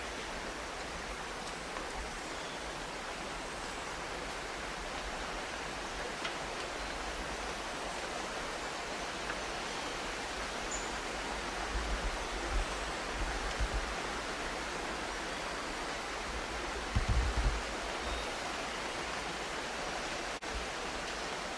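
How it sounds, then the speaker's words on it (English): Constant broadband rushing of flowing water, like a river some distance below, steady throughout with a few faint low thumps. "There's a river down below us, it sounds like."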